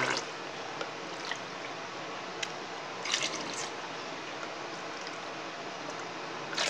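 Water is poured into a pot of ragi flour for ragi porridge, a faint steady trickle with occasional small drips and splashes, quiet and continuous, no speech.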